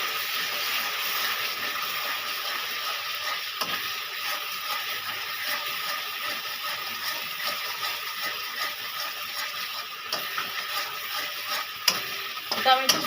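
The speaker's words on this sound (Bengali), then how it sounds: "নেড়ে নেবো" Potol (pointed gourd) and shrimp being stirred in a frying pan with ground poppy seed and nut paste, giving a steady broad sizzle with scraping stir strokes throughout, a few sharper clinks near the end.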